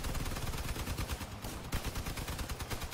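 Rapid bursts of vehicle-mounted gunfire from the combat video game Crossout, shooting at bots, fill the whole stretch as dense, continuous automatic shots with a brief lull midway, loud and close.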